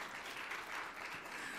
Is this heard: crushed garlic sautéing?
no